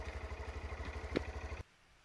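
A motorcycle riding along at about 60 km/h, its engine giving a steady pulsing drone close by with a brief louder rise near the end before cutting off abruptly into near silence.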